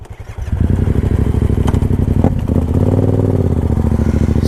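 A Yamaha FZ motorcycle starts moving and rides on, its engine a loud, close, steady throaty drone that builds in the first second and changes pitch briefly mid-ride before settling again, with no talking.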